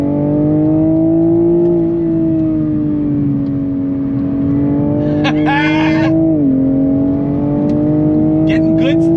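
A 2022 Toyota Supra 3.0 pulling in first gear, with a steady loud engine drone that rises gradually in pitch, then dips briefly as a short clatter cuts in, while a voice talks over it.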